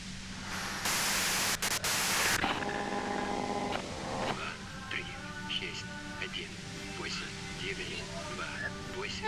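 Radio static and white noise in the Disco Elysium video game: a loud, dense hiss bursts in near the start and cuts off after a couple of seconds, then gives way to tonal electronic sounds with talk over them.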